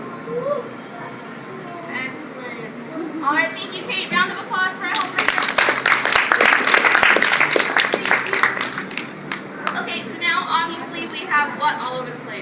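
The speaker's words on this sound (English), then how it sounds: "Round of applause for our helper." An audience at a classroom volcano demonstration breaks into applause, a dense wash of clapping that swells in the middle and then tapers off, with voices talking before and after it.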